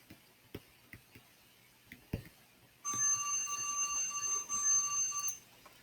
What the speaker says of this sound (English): That was my timer saying it's time to end the lecture, not a phone.